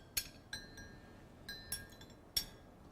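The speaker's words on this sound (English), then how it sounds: "just stir it around" A spoon clinks against a cup while stirring Korean green plum extract tea, giving about five or six light, bright taps spaced irregularly over a quiet background.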